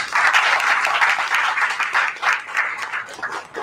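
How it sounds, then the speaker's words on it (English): Audience applause for a municipal mayor candidate at an election event, a steady, moderately loud burst of many hands clapping close by. "So please, give him a big round of applause."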